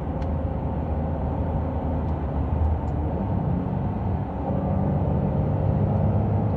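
Steady, dense engine roar from a Ferrari 599 GTB Fiorano's 620-horsepower V12 under sustained driving, a constant loud drone with road and wind noise and no talking.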